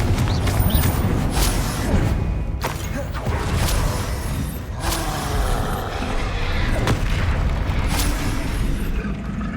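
Confringo spell explosions in the Hogwarts Legacy video game, a steady loud roar of fiery blasts with several sharp cracking impacts spaced every couple of seconds.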